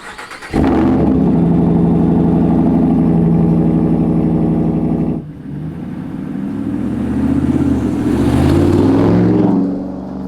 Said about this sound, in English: we're going to hop in the truck, we're going to head down to the dealership